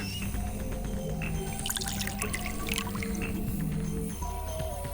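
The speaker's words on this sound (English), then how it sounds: "I'll just pour the saline solution in here." Saline solution poured into a laboratory beaker in the video game Virtue's Last Reward, a steady, continuous liquid pour with dripping and splashing that runs for several seconds.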